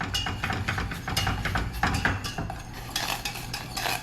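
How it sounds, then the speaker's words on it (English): A spoon stirs gelatin into apple juice in a pot, scraping and clinking against the metal sides in a quick, irregular rhythm, close and moderately loud. "Alright, stirring it in."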